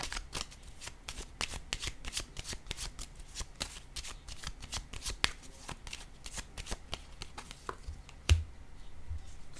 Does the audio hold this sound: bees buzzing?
no